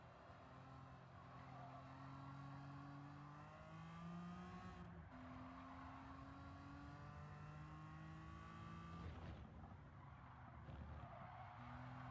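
A TVR car in the Gran Turismo 7 racing game drives laps with a steady, loud engine note that climbs and drops through gear changes, with occasional tyre squeal in corners. No talking.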